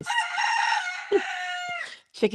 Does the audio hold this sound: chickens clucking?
yes